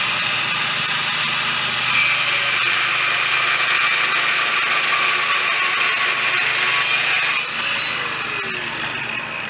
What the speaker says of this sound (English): Helen's just cutting the next set of support poles